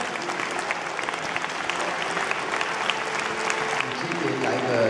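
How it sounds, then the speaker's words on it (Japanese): Sustained applause from a crowded audience at a Saitama Taiwanese association gathering celebrating the Republic of China's centenary, steady and even, with a voice speaking over it. "皆さん大きな拍手をお願いいたします。"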